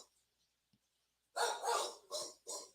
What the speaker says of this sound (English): her barking sounds like her throat sounds like mine